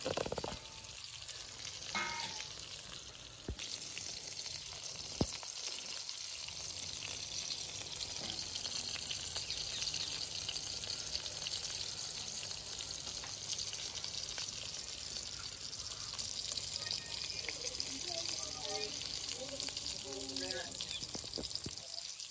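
Kachki fish paturi wrapped in cabbage leaves fries uncovered in a pan, a continuous quiet sizzle running throughout with a few brief knocks and a voice speaking over it at times.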